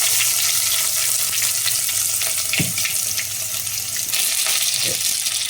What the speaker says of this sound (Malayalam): അതിലേക്ക് ഇഞ്ചി വെളുത്തുള്ളി ചതച്ച് വെച്ചിരിക്കുന്ന കൂടി